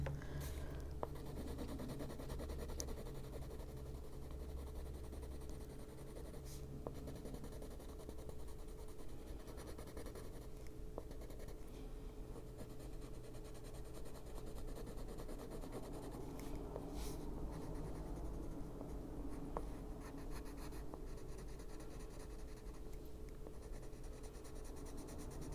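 White colored pencil rubbing steadily across paper while coloring, a soft continuous scratchy texture, close but faint over a low background hum.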